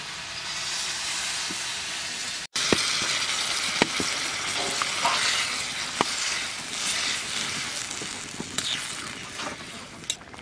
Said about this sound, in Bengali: লাউ কষানো হয়ে গেছে এখন জল দিয়ে দেবো